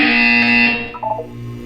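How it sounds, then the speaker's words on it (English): A harsh electronic buzzer in the video game Portal 2 blares loudly for under a second, then cuts off into a few short warbling tones over a low hum. "You will hear a buzzer."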